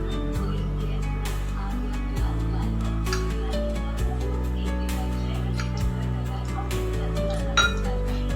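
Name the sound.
oil being added to a hot appe pan, utensils clinking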